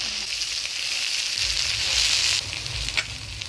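Oil sizzles and spits steadily in a pan with garlic, dried red chilli and nigella seed tempering as taro leaves go in for frying, a close, bright frying hiss that shifts midway, with no talk.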